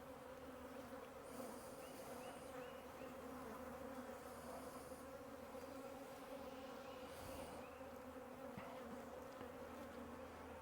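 Honey bees buzz densely inside a crowded double-deep hive in spring, a steady, continuous drone from very many insects close by, unbroken throughout.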